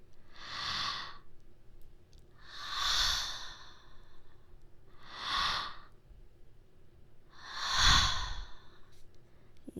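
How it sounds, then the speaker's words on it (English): Four slow, deep breaths are drawn in and let out close to the ear, each a soft airy swell followed by a quiet pause, in an intimate binaural setting. "Take some deep breaths with me."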